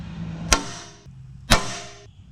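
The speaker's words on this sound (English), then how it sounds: "now we'll use a center punch, and I'm gonna punch them" A center punch struck into metal go-kart brake parts twice, one second apart, each a sharp close crack with a brief ringing tail.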